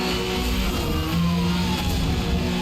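A racing game car engine at top speed during a police chase in Need for Speed, loud steady high revving with a sliding pitch, close and without speech.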